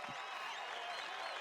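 Studio audience at a late-night talk show applauds steadily in a dense, even wash of clapping, moderately loud and continuous without pauses.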